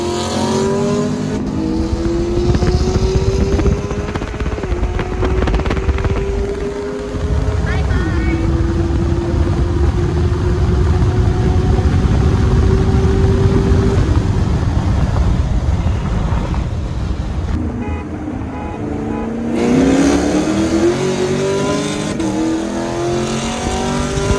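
Two Camaros, one with a corn-fed E85 setup and one a stock sixth-generation model, accelerate hard in a roll race from 40 mph on a sandy road. The engines roar loud and close with rising pitch through repeated gear changes, and a voice is heard briefly.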